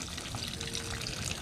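Water drains steadily from a punctured black roof liner on a Prowler travel trailer, a continuous splashing trickle with even loudness and no voices.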